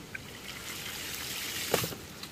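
A hydraulic ram pump, just switched on, gives a steady rush of flowing water with a single soft knock partway through.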